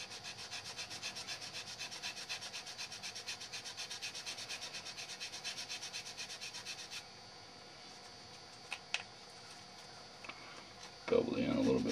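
Sanding a bevel onto the end of a chassis part for a 1959 Chevy drag truck: steady, rhythmic rubbing strokes for about seven seconds, close and moderately loud, then quieter shop sounds with a few knocks.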